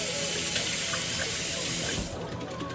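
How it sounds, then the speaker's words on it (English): Running tap water rinsing out a kitchen pitcher, a steady broadband splash that continues throughout and thins slightly near the end, fairly close. "So we're gonna go ahead and rinse that out."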